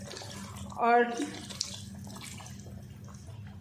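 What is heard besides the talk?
water poured into chicken masala curry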